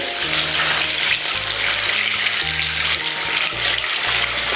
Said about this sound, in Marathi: मी अंडे फ्राय करून घेतो